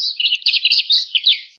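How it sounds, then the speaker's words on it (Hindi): Birds in a village chirp and twitter rapidly in close, bright bursts, a busy continuous song with quick repeated notes and no voices. "गांव में चिड़ियों की चहचहाट सुनाई दे रही है।"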